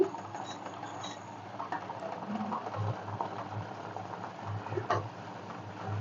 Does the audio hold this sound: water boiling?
yes